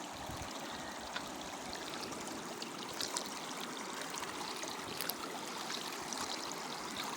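A mountain stream in Bulacan flows steadily with a constant, broad rushing and trickling wash, close and uninterrupted, with no voices.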